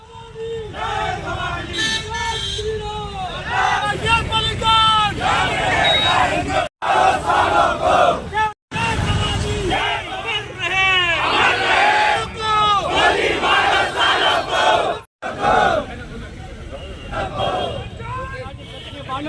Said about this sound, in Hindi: पीछे काफ़ी आक्रोश जनता भीड़ भाड़